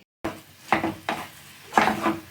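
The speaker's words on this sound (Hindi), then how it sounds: "तो इसे लगातार ही चलाते हुए रहेंगे, हम छोड़ेंगे नहीं, क्योंकि मूंग की दाल अच्छे से भुनना ज़रूरी है।" A utensil scrapes and knocks against a thick-bottomed pot while moong dal is stirred and roasted, giving four or five distinct clattering strokes at close range, with no talking.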